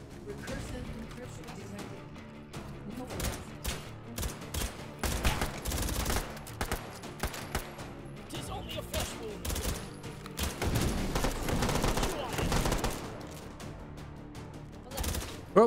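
Gunfire in the VR shooter game H3VR, bursts of rapid shots and fusillades coming in clusters at varying loudness, with people talking over and between them.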